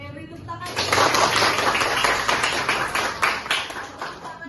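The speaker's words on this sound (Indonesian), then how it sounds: "beri tepuk tangan" A room of students claps their hands together in a brisk, moderately loud burst, with a few voices mixed in beneath the clapping.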